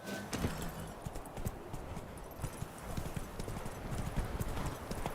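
Horse hooves clip-clop steadily at a running pace in Witcher 3, close and fairly loud, with a brief whinny and a rough rustling bed beneath the continuous beats.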